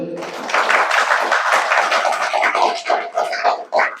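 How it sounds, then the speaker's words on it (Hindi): An audience at a Brahma Kumaris yoga talk in Jamnipali, Korba claps together: a dense, steady patter of many hands that lasts about three and a half seconds and thins out near the end. "ताली तो बजाओ।"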